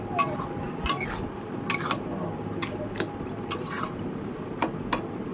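A spoon scrapes and clinks against a pot while bottle gourd and fish head curry is stirred, with sharp metallic knocks at irregular intervals over a soft, steady cooking rumble.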